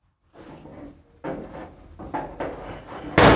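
A door is opened with a series of wooden knocks and clunks that grow louder, ending in one sharp, loud thud close by.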